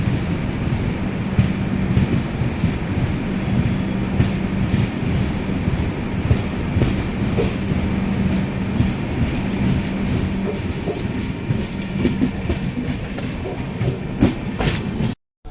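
A WAP-7 electric locomotive hauls a late-running Coimbatore AC special train, heard from inside as a steady loud rumble with rhythmic wheel clatter over the tracks, continuing until an abrupt cutoff at the end.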